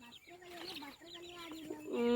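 A hen clucks close by in a quick series of soft, throaty calls, ending with a sharper, higher cry.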